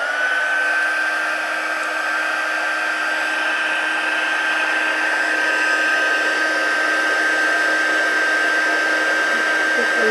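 A heat tool blows steadily and loudly over a card craft project, a constant whirring fan hiss with a thin high whine that continues without a break for about ten seconds.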